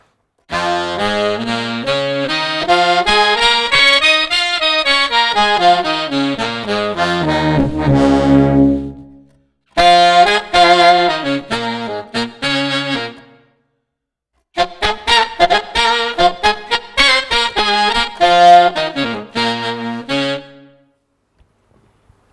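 Electric guitar through a triple-voice pitch shifter effect, notes layered in stacked three-voice harmonies, rising and falling in quick runs, played in three bursts separated by short pauses, with no talking.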